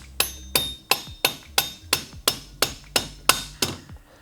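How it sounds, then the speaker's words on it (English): Soft rubber mallet tapping a TST captive chain adjuster snugly into the swing arm of a 2022+ Honda Grom: about ten evenly spaced, sharp knocks roughly every half second, close and clear with no talking. "I usually use a rubber mallet, a pretty soft one, to tap this in."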